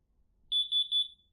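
A smart alarm system, set to stay mode, beeps as it arms: three quick high-pitched electronic chirps in a tight, even row, clear against a quiet room with no talk.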